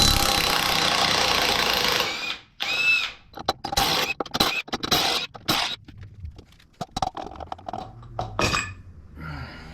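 Tools pull the pulley off the rear wheel of a Harley-Davidson Dyna Low Rider: a loud, steady whirring burst for about two seconds, then irregular metallic clanks, scrapes and shorter bursts nearby.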